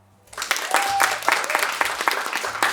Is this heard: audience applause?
yes